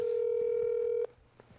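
A telephone ringback tone on an outgoing call: a single steady electronic tone holds for about a second, then cuts off, leaving faint background noise.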